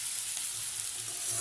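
Onions sautéing in a pan for a poha dish make a steady, close, moderately loud hiss of sizzling with no stirring or talk over it.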